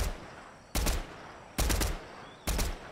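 Three loud, sharp gunshots in a battle royale video game, evenly spaced about a second apart, each followed by a short decaying tail over a low background.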